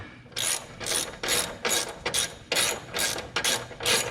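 Ratchet wrench cranking down a sway bar mount bolt on a Chevy Camaro front end, with about eight rapid bursts of close, loud clicking pawl strokes in a steady rhythm, no talk.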